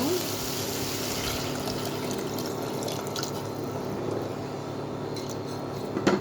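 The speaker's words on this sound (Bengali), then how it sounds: "কষানো শেষ, এবার পানি দিব।" Water pours steadily into a pan of sautéed mung dal on the stove, making a continuous close rushing and splashing wash that runs the full length, with a few small clinks near the end.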